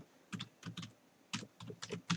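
Keys clacking on a computer keyboard as Python code is typed, quiet and close, in short irregular bursts of several keystrokes with brief pauses between them.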